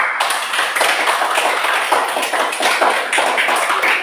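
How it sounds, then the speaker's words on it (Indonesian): Loud, close classroom applause as students clap after a group presentation, a dense continuous patter of many hands filling the whole stretch with no talk over it. "marilah kita berikan tepuk tangan"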